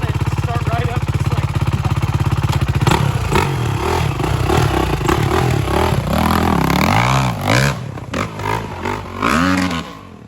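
A Honda Hawk 250 dirt bike on a hill idles with a steady rattling thrum, then revs up and down in rising and falling surges, loud and close, with people talking over it.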